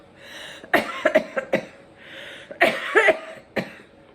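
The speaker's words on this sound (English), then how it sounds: "Sorry for the cough." Several separate coughs, close by and moderately loud: a few quick dry ones, a pause, then another short cluster and one last cough.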